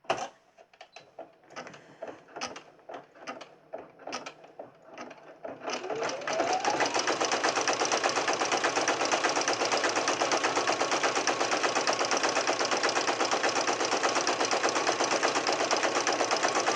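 A sewing machine stitching down a pocket on a hippo crayon holder: a few seconds of irregular clicks and short mechanical bursts, then a loud close run of rapid, even stitching that holds steady to the end, with no talking.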